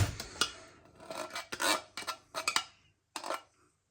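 A spoon scraping and rasping against a plastic tub of Lidl Newgate hot chicken curry, several short irregular scrapes and clinks, close and fairly quiet, with no talking.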